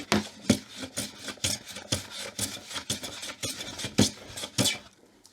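A hand plane takes shavings off the corner of an old wooden drawer front in repeated sharp rasping strokes, about a dozen over five seconds, each a quick swish at close range with no talk.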